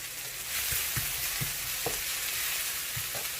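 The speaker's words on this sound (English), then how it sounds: "we're going to let this one simmer for 5 minutes before we add our pork ribs" Adobo with fermented black beans simmers and sizzles in a pan. A constant hissing bed runs under a few soft, scattered utensil knocks.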